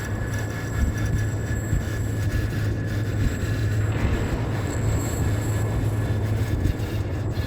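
Monster chase theme music from the horror game Monstrum, a loud, dense and harsh continuous drone with scratchy, grinding texture like glass scraping, sustained at steady volume throughout without any voices.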